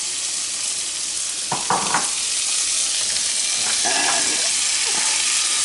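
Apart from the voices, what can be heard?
onions, peppers and celery frying in pan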